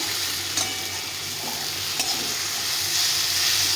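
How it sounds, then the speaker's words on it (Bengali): Eggplant frying in hot oil, a steady loud sizzle with scraping stirs of a spatula in the pan, alone without any talk. "ভালো করে ভেজে নিতে হবে।"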